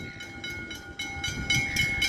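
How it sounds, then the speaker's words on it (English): A train runs along a line at Dandenong, Australia, its wheels giving a rhythmic, repeated clatter with a steady high ring over it, moderately close and growing slightly louder toward the end. "It appears we've got another ghost train along here."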